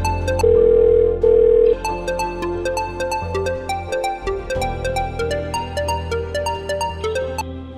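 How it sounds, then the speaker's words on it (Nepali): A telephone calling tone sounds as two long steady beeps with a short gap, set against melodic background music that carries on afterward. "कसलाई फोन गरेर बोलाउँ त विक्रमलाई बोलाउँछु"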